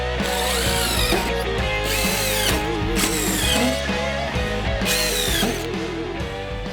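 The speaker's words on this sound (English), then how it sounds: "you drive that drill bit right into the cradle" A power drill drives screws into deck boards on a deck build, its motor whining continuously and loudly with repeated revving pitch sweeps and rough grinding bursts, close by with no talk.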